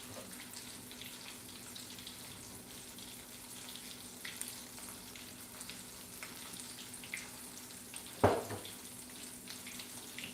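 Shrimp frying in hot oil in a preheated stainless steel pan for shrimp scampi, giving a steady, faint sizzle throughout, with one brief, louder crackle near the end.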